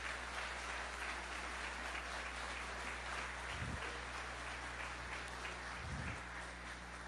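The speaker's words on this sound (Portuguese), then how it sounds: "Pode aplaudir Jesus" A church convention congregation claps for Jesus, a sustained, fairly distant round of applause with a low steady hum beneath it.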